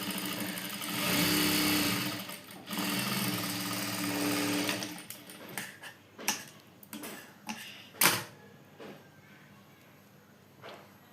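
A sewing machine stitches a dart on a blouse front piece, running in a steady whirring burst, then giving short stop-start runs and clicks, close and moderately loud.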